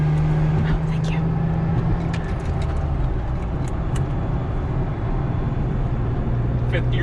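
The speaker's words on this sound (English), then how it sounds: "See how noisy transmission is?" A Lexus IS300 in fifth gear on the road, its transmission giving a steady low drone and whine beneath engine and road rumble, with people talking over it.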